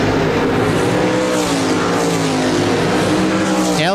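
RaceSaver sprint cars roar around the dirt oval at Park Jefferson Speedway, a loud, dense engine howl holding steady throughout, with one car's pitch sweeping sharply as it passes close near the end.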